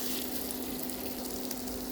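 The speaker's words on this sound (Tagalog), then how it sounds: "Let's fry our seasoned beef." Seasoned beef fries in hot cooking oil, giving a steady, even hiss of sizzling that stays constant and moderately quiet throughout.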